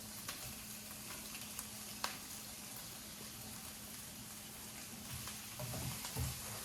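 Pork sizzles in a pan with onions and garlic for Thai drunken noodles, a soft, steady hiss close by with a few faint clicks and scrapes of stirring.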